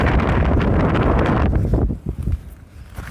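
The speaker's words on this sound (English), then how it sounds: "check out the wind" Strong wind buffets the microphone outdoors in the Scottish Highlands, a loud roaring rumble for most of the moment that suddenly drops off, leaving softer gusts and quieter rustling.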